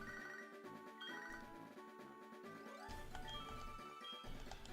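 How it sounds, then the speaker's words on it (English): The Pokégear in Pokémon HeartGold rings for an incoming phone call, a faint, electronic melodic ringtone that repeats and changes pitch partway through, with no talking. "I can't look at the Pokegear without answering his phone call"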